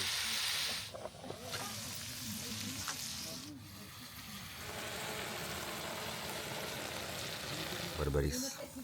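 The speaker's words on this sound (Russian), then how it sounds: "Вначале сжигается луковица, чтобы сок лука пропитался маслом." Onion sizzling in oil in a pan over an outdoor field stove by the Vyborg Bay, a soft steady hiss with low crackle under nearby voices talking.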